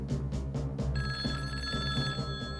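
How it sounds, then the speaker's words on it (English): A telephone rings in a G.I. Joe cartoon, a repeated electronic trill in short bursts that then settles into a steady bright tone, clear over a quiet background. "Dusty makes another phone call."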